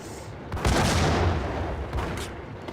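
A grenade blast erupts in the shooter video game Max Payne, a loud, broad boom followed by a rumbling tail and scattered bursts of gunfire, with no voices over it.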